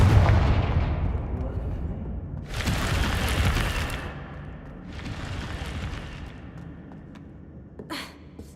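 A Confringo fire spell explodes in the video game Hogwarts Legacy: two loud, broad bursts roughly two seconds apart, each with a rumbling tail, followed by a sharper short hit near the end over steady low game ambience.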